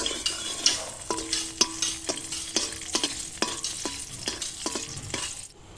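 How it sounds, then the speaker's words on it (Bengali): Dry red chillies and fresh bay leaves sizzle in hot oil in a kadai, a steady close crackle broken by several ringing metallic taps and scrapes of a spatula against the pan. "আমি দুটো শুকনো লঙ্কা আর কাঁচা তেজপাতা ফোড়ন দিয়ে দিচ্ছি।"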